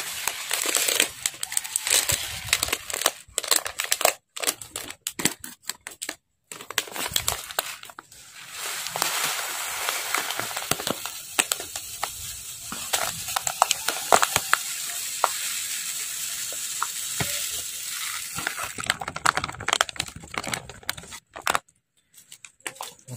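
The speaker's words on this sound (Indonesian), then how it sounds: "ini topsongnya sudah saya campurkan ya kita aduk dulu" Topsong powdered bird feed is added to crushed chicken pellet feed and stirred by hand, giving a steady dry crinkling and rustling with sharp scraping bursts; no talk is heard.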